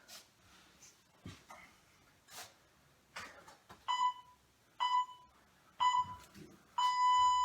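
Workout interval timer sounding during an abs and core session, a series of four short electronic beeps, the last one held longer, with faint movement and thumps between them and no talking.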